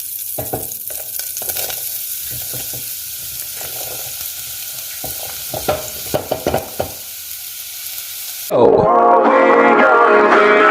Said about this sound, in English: we're gonna start off by frying some mushrooms in some butter